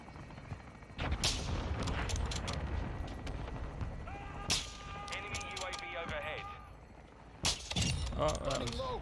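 Sniper rifle fire in Modern Warfare 2 using the MCPR-300, with a few sharp, loud gunshot cracks spaced seconds apart amid game effects and a player talking.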